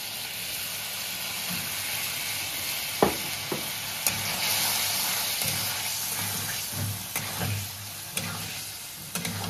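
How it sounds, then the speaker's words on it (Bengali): Eggs dropped into a pan of egg korma gravy set off a steady close sizzle and frying hiss, with a few sharp clinks and stirring knocks on top. "গ্রেভি একদম তৈরি, এবারে ডিমগুলোকে দিয়ে দেব।"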